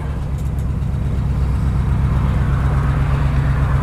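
A 1955 Oldsmobile 98 Holiday sedan drives along, its engine a steady, low, even rumble heard from inside the car, with no talking.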